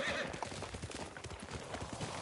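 Horse hooves clop steadily at a gallop in the video game Ghost of Tsushima, a continuous rhythmic beat under a faint background wash, with no talking over it.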